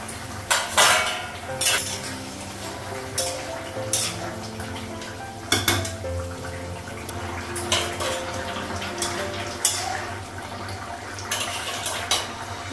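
Cookware clattering in a home kitchen, with repeated sharp metallic clanks and scrapes of pots, pans and utensils, a pot lid lifted among them, over a low steady background and no talk.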